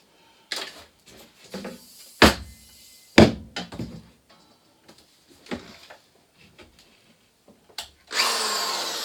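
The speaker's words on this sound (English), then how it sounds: "Drill here." Power drill boring into a wall to hang pegboard, heard as several short, close bursts and thunks separated by pauses, ending in a sustained loud whirr as the bit spins.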